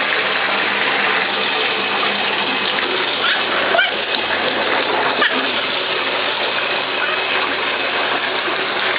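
Tap water pouring steadily into a bathtub, a continuous close splashing rush with a couple of brief knocks partway through.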